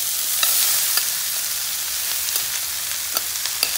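Marinated cabbage and chana dal being stirred in a frying pan for an instant cabbage thoran, giving a steady soft sizzle broken by repeated light scrapes and clicks of the spoon, close and without speech.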